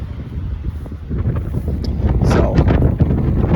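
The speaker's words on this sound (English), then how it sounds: "it is windy right now." Strong wind buffets the microphone with a continuous low rumble, gusting louder toward the end.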